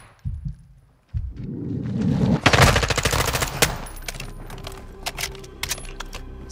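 Bursts of rapid automatic gunfire in the Call of Duty: Modern Warfare 2 story campaign, rattling loudly in the middle of the stretch, followed by scattered single shots and clinking shell casings.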